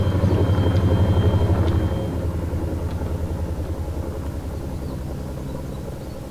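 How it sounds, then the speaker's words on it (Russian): A helicopter in the video game Arma 3 thrums overhead with a steady, pulsing rotor beat and engine rumble, loudest at first and then easing slightly as it continues. "Вертолет надо мной."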